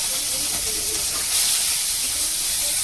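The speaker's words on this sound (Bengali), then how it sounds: "চিংড়ি মাছটা ভেজে নিচ্ছি, নুন হলুদ মেখে রেখেছি" Small prawns coated in salt and turmeric frying in oil in a pan, giving a steady, close, bright sizzling hiss that holds evenly without a break.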